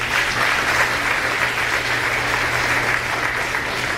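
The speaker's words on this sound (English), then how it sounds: "Can we give them a round of applause," Audience at a fifth-grade graduation ceremony applauding, a dense, steady wash of many hands clapping at once, loud and sustained throughout with no voices standing out.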